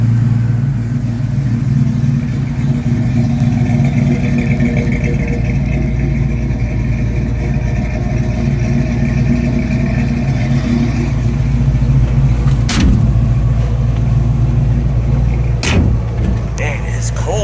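A restored 1966 Chevrolet C10 short-bed pickup with a new 350 crate V8 and manual transmission drives along, its steady low engine rumble and road noise continuous throughout, with a couple of brief sharp clicks near the end.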